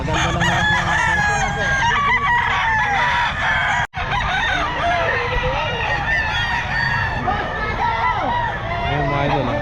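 At a pet market in Bocaue, a rooster crows loudly and repeatedly among other clucking chickens, with people talking in the background throughout.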